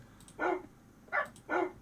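A wolf barks three times in Minecraft, short sharp yelps with a pause after the first and a quicker pair at the end, close and clear against a quiet background.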